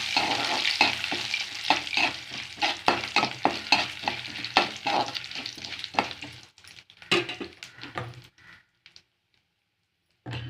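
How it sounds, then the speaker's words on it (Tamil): Urad dal, two dried red chillies and curry leaves sautéing in a pan, with steady stirring scrapes and soft sizzling that keep on at close range and then thin out toward silence at the end. "உளுந்து போட்டுக்கோங்க கொஞ்சம் ஒரு ரெண்டு காஞ்ச மிளகாய் போட்டுக்கோங்க கருவேப்பிலை கொஞ்சம் போட்டுக்கோங்க நல்லா வதக்கி வச்சுக்கோங்க"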